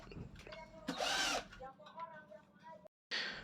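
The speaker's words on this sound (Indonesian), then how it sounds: "Kita skrup." A power drill drives screws into a hollow light-steel frame, giving short bursts of whining motor and grinding bite between pauses, with a brief silence near the end.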